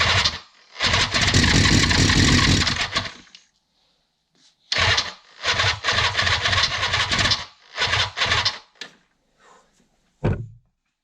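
A 1976 Suzuki GT750 motorcycle engine turning over on its starter without catching: a long loud cranking burst, a pause, then several shorter cranking attempts and a final brief one, all close.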